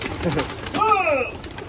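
Pigeons in a loft coo softly at close range, with one clear warbling call over a muffled background of faint voices.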